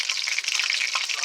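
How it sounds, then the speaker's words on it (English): A batch of fish fries in a pan for a fish curry, giving a bright, dense and steady sizzle heard close and alone. "Fry away, fish. Fry away."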